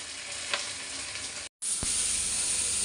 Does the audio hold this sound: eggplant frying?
yes